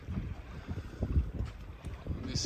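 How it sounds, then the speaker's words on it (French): Gusty wind buffets the microphone aboard a sailboat in Greek waters near Skopelos and Alonissos, a low, uneven rumble with faint water sounds that rises and falls in soft gusts, with no clear voices. "Le vent est instable par ici"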